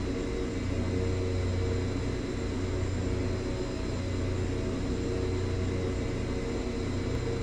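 Winair LET 410 twin-engine turboprop taking off in X-Plane 11, a steady droning engine roar with a constant whine, even in loudness throughout.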